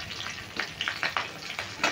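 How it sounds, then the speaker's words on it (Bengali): Green chilies frying in hot mustard oil with a black cumin (kalo jeere) tempering for a pomfret curry, a steady close sizzle with soft stirring scrapes at intervals, no talk. "এবার ফোড়নটা একটু নেড়ে নিচ্ছি। দিয়ে দিচ্ছি কাঁচা লঙ্কা"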